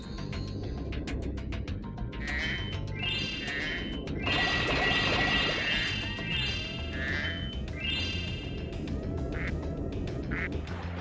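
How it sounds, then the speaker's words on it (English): Repeated duck quacks in Spyro 2, from a mother duck, loud and layered over continuous game music and effects throughout. "Well, there's a mother duck here."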